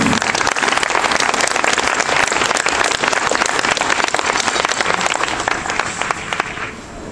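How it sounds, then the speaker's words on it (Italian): An indoor theatre audience gives sustained, dense applause for actress Caterina Vertova, loud and continuous throughout before easing slightly at the end. "un applauso perché se lo merita"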